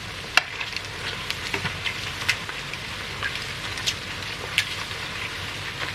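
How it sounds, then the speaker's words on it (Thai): Chicken skin frying in hot oil, a continuous crackling sizzle with scattered sharp pops, steady and close with no voices. "ทอดไปเรื่อย"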